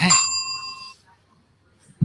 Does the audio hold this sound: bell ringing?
yes